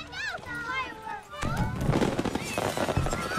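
Fireworks go off at a hobbit party in the Shire from The Lord of the Rings: The Fellowship of the Ring (2001), crackling and popping densely over crowd noise after children's voices and talk at the start.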